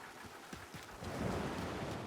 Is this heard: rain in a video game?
yes